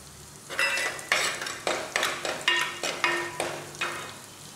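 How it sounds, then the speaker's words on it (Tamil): Garlic and curry leaves sauté in a pan for egg curry, with a bright sizzle and about eight rhythmic scraping stirs of a spoon, each stroke rising and fading, heard close up with no talking. "இப்போ வெள்ளைப்பூடு போட்டு வதக்கலாம்."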